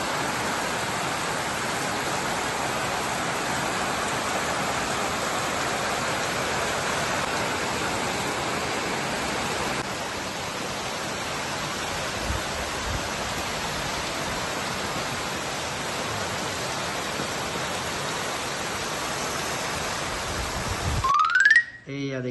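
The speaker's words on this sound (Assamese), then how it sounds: "দেখিছেনে বৰষুণ দিব ধৰিলে, একদম হাও হাও হাও হাও হাও হাওকৈ বৰষুণ দি আছে" Heavy rain falls in Guwahati as a steady, dense hiss that fills the whole stretch at an even level before cutting off abruptly at the end.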